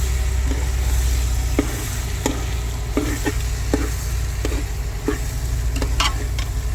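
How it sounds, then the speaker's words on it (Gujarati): Fish keema fries in a pan as it is slowly stirred and broken up, a steady close sizzle under regular scraping taps of the spoon against the pan, with no voices. "ધીમે ધીમે આવી રીતના આપણે હલાવતું જવાનું, ખોલતું જવાનું, મિક્સ કરતું જવાનું."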